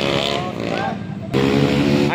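Motorcycles riding past on the Marilaque highway in the Philippines: loud engine drone with rising revs and a sharp change as one bike passes close, while people talk over it.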